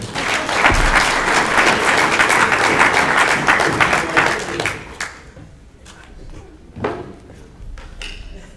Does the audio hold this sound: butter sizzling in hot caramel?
no